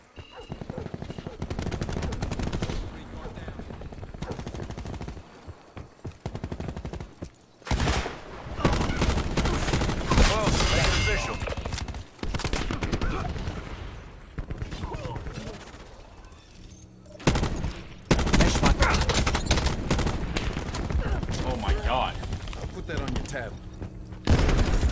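Three-round burst rifle fire in Black Ops 4, loud clustered shots cracking in quick bursts amid other gunfire and booms, with quieter gaps between engagements and occasional game voice.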